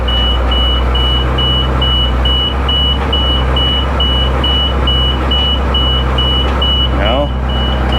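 An old school bus engine rumbles low and steady as it pulls off in first gear, with a faint steady beep running through and a brief voice near the end.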